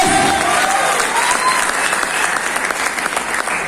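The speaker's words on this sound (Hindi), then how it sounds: "पुरजोर का मतलब जोरदार तालियां," A crowd at a Vestige marketing motivational seminar bursts into loud, sustained clapping, thick and even throughout, with a brief voice at the start.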